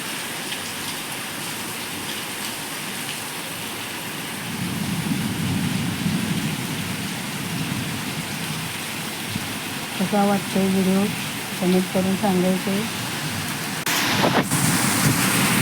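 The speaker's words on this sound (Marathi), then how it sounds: "वारं पण तेवढंच जोरात आहे, विजा पण कडकडाट होत आहे, विजांचा पण." Heavy, sudden first summer rain with strong wind, a steady broad hiss and patter throughout, swelling at times, while a voice speaks briefly over it.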